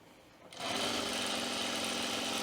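A domestic sewing machine starts up and runs steadily, stitching an easing line along a sleeve cap with a fast, even mechanical whir, close and continuous.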